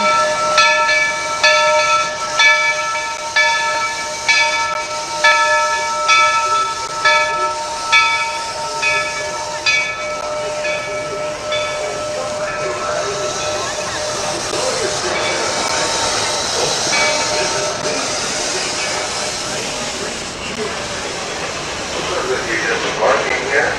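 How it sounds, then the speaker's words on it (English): A steam train pulls into a Disney park station, its rhythmic chuffing fading as steady hissing steam builds, with a whistle-like tonal hum and voices talking over it. "Train just pulling into the station."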